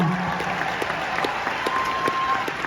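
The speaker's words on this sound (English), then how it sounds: "Give yourselves a cheer," A concert audience at a Christmas tour show in the Opry House, Nashville, applauds in a dense, continuous patter of clapping with crowd noise, while a voice rings out over it.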